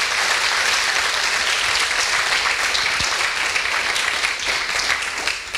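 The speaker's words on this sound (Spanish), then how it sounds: "Dele un fuerte aplauso" Church congregation at a Nazarene evening service applauding loudly, a dense, sustained wash of clapping from many people that fills the whole stretch and tapers slightly at the end.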